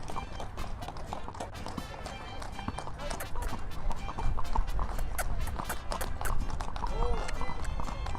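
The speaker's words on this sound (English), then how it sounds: "This is my quarter horse, El Regalo." A quarter horse's hooves clop rapidly on a hard surface in a lively, dancing rhythm, close by, with voices and crowd noise mixed in throughout.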